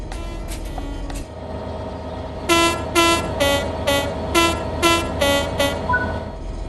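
Train in the Train Sim World 3 video game pulls away under throttle, with a loud, rhythmic series of bright, pulsing tones from the locomotive over a steady mechanical rumble.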